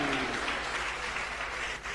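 An audience at a panel session on female professional resilience applauds the MTN network quality and reporting manager with steady, dense clapping that fades slightly near the end.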